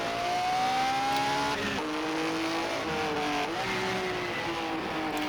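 A 1950s Ferrari 246 Formula 1 car runs flat out down the straight, its engine a loud, continuous high-pitched howl that climbs and shifts pitch through gear changes.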